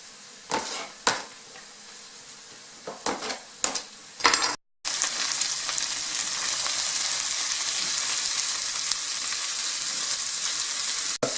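Cabbage soup ingredients fry in a pan: a few sharp clatters and stirring knocks, then a steady, loud, even sizzle after a brief gap, with no talking.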